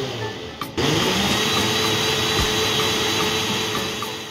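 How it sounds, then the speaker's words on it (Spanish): A kitchen blender running with blueberries and a touch of vanilla, a loud steady whirring roar that starts abruptly after a short click and continues alone. "Y ahora sí, a licuar."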